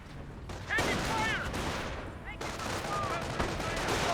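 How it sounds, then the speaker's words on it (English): Gunfire from Panzer Grenadiers in the Company of Heroes real-time strategy game, heard as dense bursts of small-arms fire with a few ricochet whines, steady and fairly loud across the whole stretch. "Panzer Grenadiers firing away."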